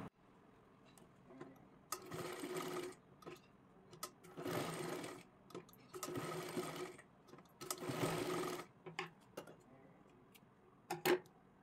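A sewing machine stitches a fabric hair band in four or five bursts of a few seconds each, separated by short pauses and small handling clicks, close and fairly loud with no voice over it.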